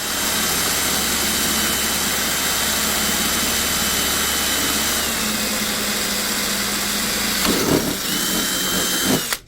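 A power drill with a 5.9 bit bores into a carbon fiber boat hull, a steady loud whine running for most of the stretch before a few brief bursts and stops near the end, with no talk.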